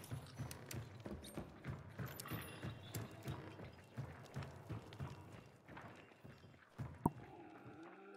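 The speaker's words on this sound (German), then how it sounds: "ich höre Schritte" Footsteps pound along in the video game Hunt: Showdown, a rapid rhythmic run of thudding steps mixed with clanking, mechanical game noise, fairly close and continuous, with a sharp knock near the end.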